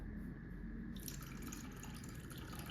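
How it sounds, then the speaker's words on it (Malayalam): Water from soaked rice, urad dal and fenugreek being poured into spinach water, a close, steady trickling and splashing that stays even throughout at a low level. "ഇതിൻ്റെ കുറച്ച് വെള്ളം കൂടെ ഈ ചീര വെള്ളത്തിലേക്ക് ഒഴിച്ചു കൊടുക്കാം"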